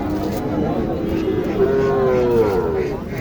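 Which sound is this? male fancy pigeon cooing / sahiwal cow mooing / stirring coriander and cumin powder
sahiwal cow mooing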